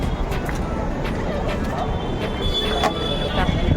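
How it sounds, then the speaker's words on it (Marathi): A train in motion, heard from on board as a steady low rumble with faint rattling and brief higher squeals, continuous for a few seconds. "आता मी चाललो ट्रेनने"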